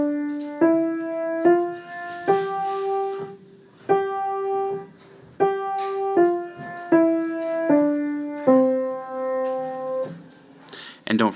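A simple beginner piano exercise starting on middle C: a short sequence of single sustained notes, some held longer than others, played at a steady moderate pace, clear and close with no talking.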